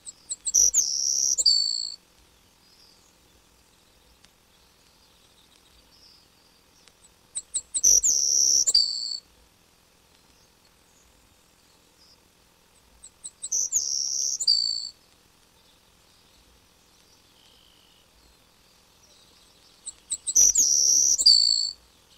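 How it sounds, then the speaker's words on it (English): A sparrow in a hayfield repeats a high, buzzy double trill from a wheat stalk four times at steady intervals of about six seconds, close and clear against quiet background. "sparrow sings its buzzy double trill from a wheat stalk in the hayfield."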